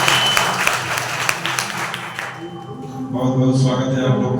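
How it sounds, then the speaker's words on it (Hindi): Applause from a church congregation at a Sunday service, a dense wash of clapping for the first half that fades out as music and voices take over. "एक बार जोरदार तालियां हो जाए।"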